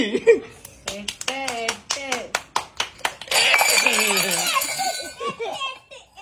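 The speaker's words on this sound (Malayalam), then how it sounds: "കയ്യടി" Hands clap in a quick run of about nine sharp, evenly spaced claps, giving way to a burst of dense cheering and scattered claps, with voices and a child's laughter mixed in during a family game at home.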